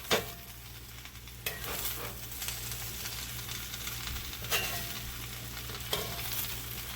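Loaded fried rice with steak, shrimp and chicken sizzles in a skillet over low heat, a steady close frying hiss broken by several sharp scrapes and stirs of the utensil, with no one talking.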